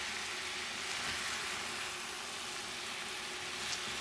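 Rice is stirred together with pork shoulder in a hot pan, a steady dense sizzle and frying crackle running throughout with faint scraping, no voices.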